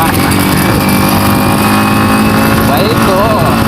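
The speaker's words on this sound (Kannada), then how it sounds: "ಬೈಕು ನೋಡಿ ಹೆಂಗೆ ಹೋಗ್ತೈತೆ." A motorcycle rides past near Abbey Falls in Coorg, its engine a loud, close, continuous drone that dominates throughout, with voices faintly present beneath it.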